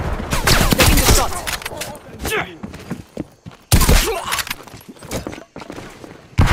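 Gunshots from the video game Call of Duty: Black Ops Cold War come as loud, close bursts of rapid fire separated by short pauses, with in-game voices speaking between them.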